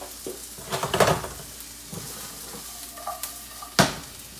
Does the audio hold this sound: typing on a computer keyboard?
no